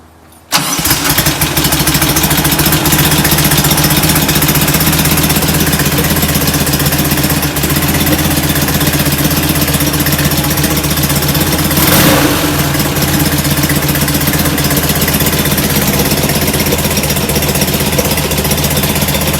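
A performance-built air-cooled VW engine fires up on its first start and runs steadily and loudly at idle for the whole stretch, a constant close rumble with no talking.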